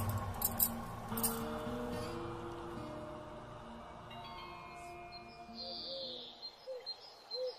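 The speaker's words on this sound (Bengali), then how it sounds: "তারা যেন ভোরের আলোর দেখা পেয়েই কিচিরমিচির শব্দে খুশি ছড়িয়ে দিতে লাগলো জঙ্গলের বাতাসে" Birds chirp in a forest at dawn as a story sound effect, soft tweets and calls that grow more distinct near the end over a quiet, sustained tonal background.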